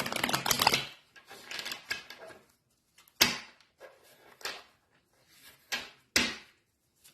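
Tarot cards being shuffled by hand, a dense riffling burst at the start followed by several separate short flicks and shuffles spaced out over a few seconds, close and alone without talk.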